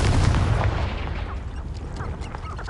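A Confringo fire spell cast in Hogwarts Legacy on PS5 lands as a loud booming blast that starts strong and rumbles, then fades over a couple of seconds into a lingering crackling tail.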